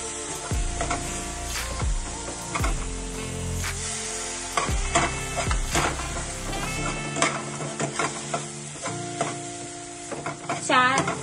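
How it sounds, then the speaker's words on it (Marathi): Grated coconut and milk are stirred in a pan for Maharashtrian coconut burfi. A spoon scrapes and clinks against the pan in irregular strokes. A faint sizzle sits beneath, and there is no talk. "याच्यामध्ये आता थोडं दूध टाकून मिक्स करायचं"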